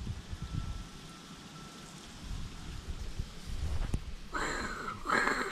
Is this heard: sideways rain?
yes